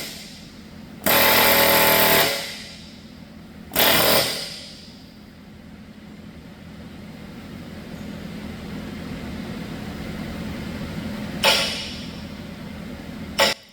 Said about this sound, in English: When you start air hammering stuff like this on odd angles, it does get cocked off to the side a little bit.